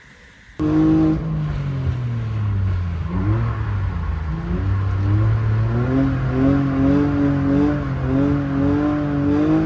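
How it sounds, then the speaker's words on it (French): A drift car pulls away with a passenger aboard, its engine snapping to a loud close roar, then rising and falling through repeated revs and gear changes across the lap. "On décide d'aller faire un petit tour avec Poulpi en passager"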